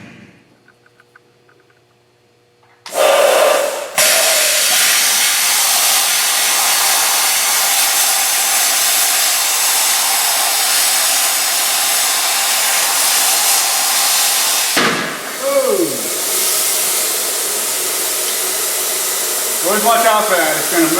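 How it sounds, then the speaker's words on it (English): A plasma cutter hisses loudly and steadily for about twelve seconds while cutting into a Volvo 240, starting abruptly after near silence, then stops and restarts briefly with some scraping toward the end. "because I'm using a plasma cutter, not a acetylene torch"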